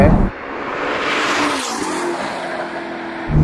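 A Ferrari SF90 Spider hybrid supercar with its electric motor assisting accelerates hard, a loud broadband engine roar with a brief dip and a low tonal rise near the middle, the surge swelling again at the end.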